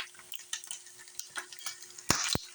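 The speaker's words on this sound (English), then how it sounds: "I let that bacon sit there and crisp." Turkey bacon fries and crisps in a pan with a soft, crackling sizzle and light utensil scrapes, followed by two sharp metallic knocks near the end.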